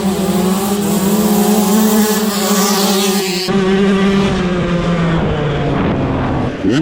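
A two-stroke motorcycle accelerates hard from second gear, its buzzy, high-revving engine pitch climbing, then dropping sharply at a gear change and climbing again, loud and close.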